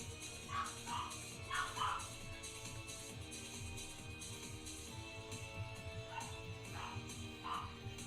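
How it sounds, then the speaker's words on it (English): A dog howls faintly in the background, giving repeated short wavering cries in two clusters over a steady low hum. "I don't know why the dog is singing a song over people right now."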